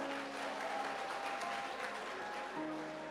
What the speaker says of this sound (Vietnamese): Xin mời chàng vỗ tay cho Đức Trung.